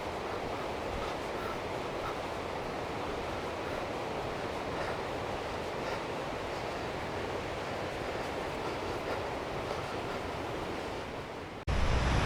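Rushing water from Goose Creek below a wooded trail, a steady broadband roar running unbroken and fairly loud, with a brief louder rumble at the very end, no voices.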